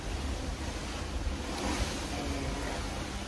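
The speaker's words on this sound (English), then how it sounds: "I'm sitting on the balcony, listening to the waves." Ocean waves wash steadily below a cruise ship balcony aboard the Carnival Celebration, a continuous broad roar of surf mixed with wind noise on the microphone, constant in level with no voices.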